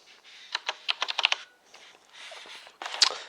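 Typing on a Zowie Celeritas mechanical keyboard: a quick run of close, crisp key clicks, a short pause, then a softer flurry and a final sharper keystroke.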